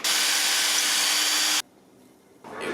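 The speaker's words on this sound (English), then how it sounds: "So now I'm going to drill this one here and run this wire to there." A power drill bores through a wooden dowel while an LED fire-twirling staff is being built. The loud, steady whine runs for about a second and a half, then cuts off abruptly, leaving quiet handling noise.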